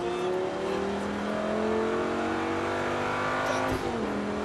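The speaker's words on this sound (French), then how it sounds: "Allez, gaz à fond, on prend la trajectoire." Race car on a circuit at full throttle, engine note climbing steadily in pitch as it accelerates, with a brief dip near the end like a gear change, heard from inside the car at moderate level.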